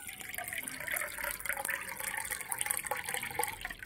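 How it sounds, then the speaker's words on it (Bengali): Water pours into a pot of rice for homemade chicken biryani, a continuous bright splashing and trickling sound that stays steady throughout. "এই 1 কাপ জল দিয়ে দিচ্ছি।"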